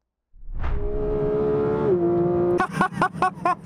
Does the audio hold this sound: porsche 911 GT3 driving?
yes